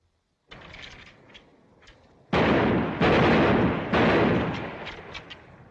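Rifle gunfire from a 1941 army training firing line, with a scattered early volley followed by several loud, sustained bursts of overlapping shots close by.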